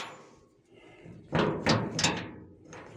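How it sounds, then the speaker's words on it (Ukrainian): A henhouse door in winter is handled with a few loud clunks and rattles close by, including a creaking swing and thuds in quick succession. "відкриваємо зараз двері"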